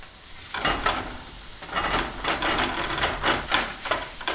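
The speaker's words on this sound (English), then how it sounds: "So I'm just stirring those in." Mushrooms and peppers stir-fried in oil in a pan for a vegan Bolognese sauce, a steady close sizzle with repeated scraping stirs coming in rhythmic bursts.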